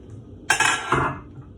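A pot lid lifted off a pot of Mexican rice cooking on the stove gives a short, close clatter of metal followed by a softer second clink, then quiet.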